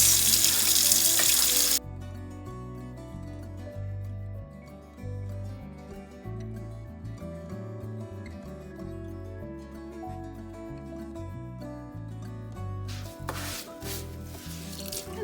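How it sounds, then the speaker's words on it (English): A cutting board being rinsed under a running tap and scrubbed with a nylon sponge, water hissing and splashing with rough rubbing strokes, louder bursts at the start and near the end; a brief voice comes in. "I'm just going to rinse it and use my nylon sponge here to get rid of anything"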